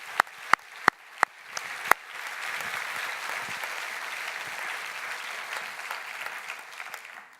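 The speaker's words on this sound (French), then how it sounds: "je crois qu'eux aussi méritent des applaudissements" Sustained applause from the audience for the event team at the opening addresses of a booksellers' conference; a few loud single claps come first, then dense, steady clapping fills the hall to the end.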